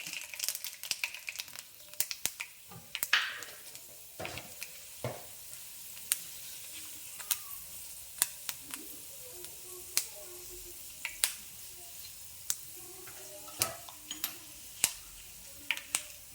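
Mustard seeds and fenugreek crackle and pop in hot oil, with sharp scattered snaps over a soft steady sizzle that keeps going throughout, close and clear with no voices.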